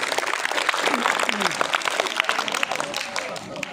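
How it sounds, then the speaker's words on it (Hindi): Crowd applause at a local political speech in Vejalpur, dense clapping with voices talking and calling out over it throughout. "एक बार जोरदार तालियां बजाएं।"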